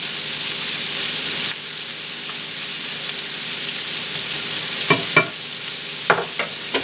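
Onions frying in a pan make a steady hiss that is strongest at first and then settles lower, with a few sharp spoon or pan clicks later on and no talking.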